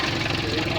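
A steady engine runs with a low, throbbing idle and fine rhythmic knocking, close and continuous through the brief moment.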